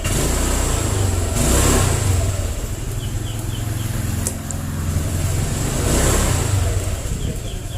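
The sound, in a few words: Honda Vario 125 scooter engine revving, throttle twisted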